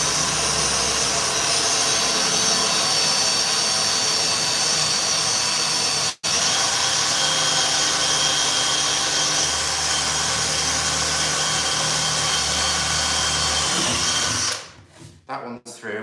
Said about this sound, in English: I'm going to put my drill right in the center